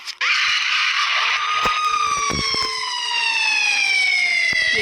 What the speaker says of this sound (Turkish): Senin kafandaki sirenin sesini de duymak istemiyorum artık.